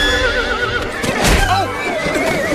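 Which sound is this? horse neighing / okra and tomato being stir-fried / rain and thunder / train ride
horse neighing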